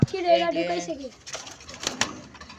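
Pigeons at a home pigeon loft give a near, soft rolling coo at the start, followed by rustling, fluttering and scattered clicks, with faint voices in the background.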